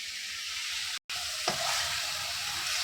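A spice paste of masala being stir-fried in a pan: continuous close sizzling hiss with one scraping stir, broken by a brief dropout.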